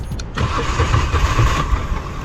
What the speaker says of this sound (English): The Guzzi began starting extremely hard